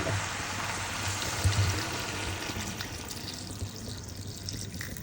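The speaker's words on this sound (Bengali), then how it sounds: "আমি একটু জল দিয়ে দেবো" Water is poured into a pot of vegetarian curry on the stove, a soft, close splashing hiss that lasts a few seconds and gradually eases, with no one speaking.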